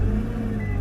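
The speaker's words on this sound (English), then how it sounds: "Actually, let's just turn it on right now." A Nissan GT-R engine starts and rumbles loudly at close range, a low steady idle with a deep drone.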